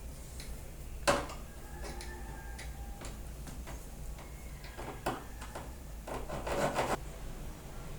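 A bicycle spoke being cut with a hand saw at a slant, giving faint, quiet rasping strokes in short bursts with pauses between them.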